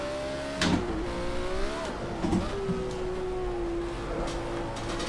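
A race car in Project Cars 2 downshifts through city streets, its engine note dropping between gears with sharp popping bursts on the shifts, loud and close, with no voices.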